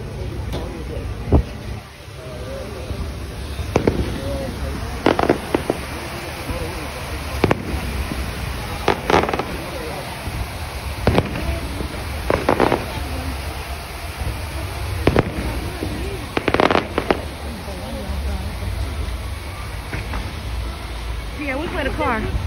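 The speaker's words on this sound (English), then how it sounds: "fireworks?" Fireworks at Cocoa Beach going off in repeated sharp bangs spaced every few seconds, heard at some distance over steady outdoor background noise.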